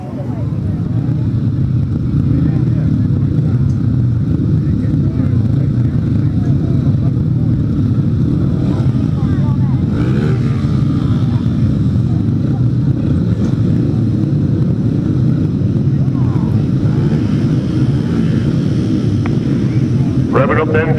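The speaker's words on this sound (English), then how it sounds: "Revving up then for race number 41, the first of the solo semi-finals." Solo grasstrack racing motorcycles rev at a British Masters qualifier meeting, a loud, continuous engine roar from several bikes with a rising surge midway. A crowd and a public address voice sound faintly beneath it.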